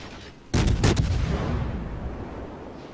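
Naval gunfire from the cruiser Nürnberg in World of Warships, a sudden loud boom with a few quick cracking shots in succession, then a long rumbling decay.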